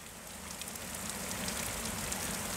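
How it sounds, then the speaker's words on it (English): Heavy rain pours steadily outside a small hut at a rest camp, a dense even hiss of falling water that stays constant throughout, moderately loud with no voices. "it's pouring with rain"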